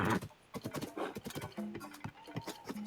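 Horse hooves clip-clopping in the video game Tears of the Kingdom, quick soft repeated steps close by, with faint game chimes and a voice speaking briefly.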